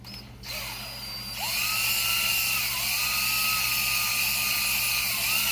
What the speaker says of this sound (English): cylinder honing time